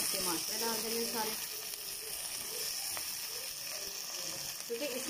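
Onions fry until golden for qeema karela, a steady bright sizzle filling the background while someone talks over it.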